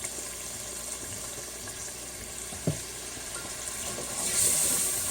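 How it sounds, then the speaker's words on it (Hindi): Water goes into a pan of chicken curry with bell pepper, red chilli powder, salt and turmeric, giving a steady sizzling hiss. A brief splash sounds midway and the hiss swells near the end, with no voices. "अब हम इसमें थोड़ा सा पानी ऐड करेंगे।"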